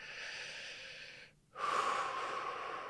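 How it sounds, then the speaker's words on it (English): One deep breath is drawn in after a brief pause, a soft, close airy rush that follows low steady background noise. "So take a nice big deep breath"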